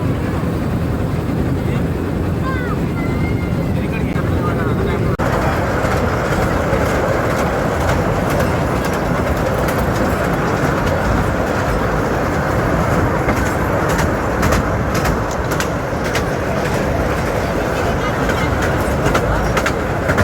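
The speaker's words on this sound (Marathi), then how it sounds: "आता आपण टॉय ट्रेनमध्ये बसलो आहोत" A toy train ride at Elephanta: a steady, loud rumble of the moving train with rail clatter continues throughout, and a faint voice is briefly heard early on.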